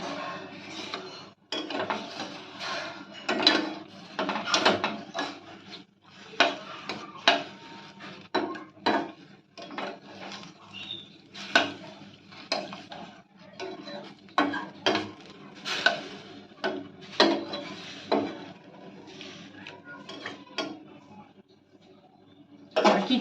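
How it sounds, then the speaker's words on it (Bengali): Papaya being stirred into sugar syrup in a pan, with repeated clinks and scrapes of a utensil against the metal in an uneven rhythm, close and fairly loud, with faint sizzling between strokes. "আমরা এবার ভালো করে পেঁপেটাকে শিরার সঙ্গে ভালোভাবে মিশিয়ে নেব।"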